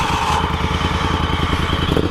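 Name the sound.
motorcycle engine on a ride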